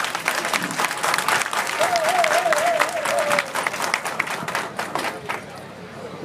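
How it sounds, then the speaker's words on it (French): Loud, sustained audience applause after a speech, rising thick and close before thinning toward the end, with crowd chatter and a drawn-out whistle or cry standing out partway through. "Applaudissez-vous, mes chers amis."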